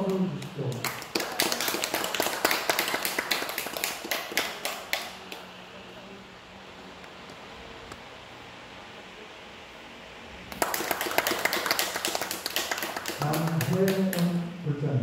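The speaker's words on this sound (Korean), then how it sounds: "큰 박수 주십시오" Applause breaks out at a Buddhist precept-giving ceremony at Beopryunsa temple on Munsusan, a burst of clapping from the gathered congregation that fades to quiet before a second round rises again near the end, with a voice briefly over it.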